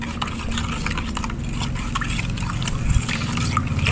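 A magnesium sulfate fertilizer solution for grapevines is stirred in water, giving a steady, close sloshing and trickling with small drips over a constant low rumble, with no talk.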